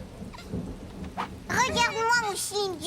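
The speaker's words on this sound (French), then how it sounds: "C'est le tonnerre qui lui fait peur." Thunder rumbles during a cartoon rainstorm, with low rolling booms under steady rain, followed by a voice speaking over the storm.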